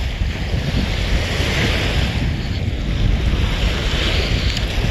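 Waves wash onto the beach at Long Beach, Mississippi, with continuous surf and strong wind buffeting close by, steady and fairly loud, with no voices.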